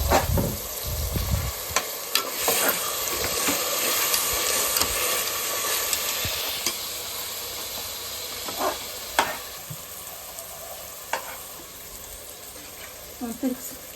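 Mutton and spices frying in a home kitchen pan, being stirred, with a steady loud sizzle and hiss throughout and occasional scraping clinks of the spoon, under a voice speaking.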